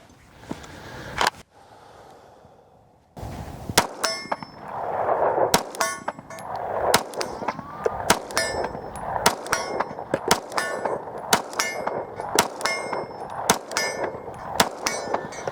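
A CZ 75 SP-01 Tactical pistol fires a long string of outdoor shots, each sharp crack followed by a bright ringing clang of steel targets, spaced about a second apart after a quieter opening.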